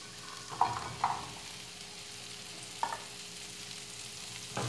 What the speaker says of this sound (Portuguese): Agora é só jogar o abençoado aqui dentro.